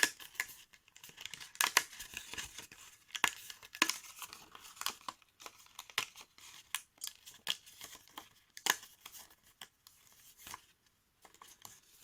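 Craft paper being cut by hand with scissors for a DIY bell decoration, producing irregular bursts of snipping, tearing and crinkling with short pauses between, close and fairly quiet.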